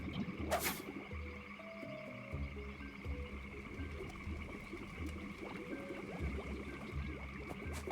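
A ranged toad enemy in the Kao the Kangaroo video game croaks repeatedly in a steady, rhythmic pattern, layered over sustained game tones and ambience.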